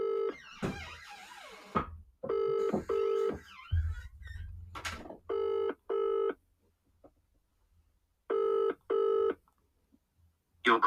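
A phone dials out on a cold call: clusters of short harmonic tone bursts from a keypad, a low rumbling burst, then evenly spaced pairs of ringback tones repeating with pauses of near silence between them, and no talk.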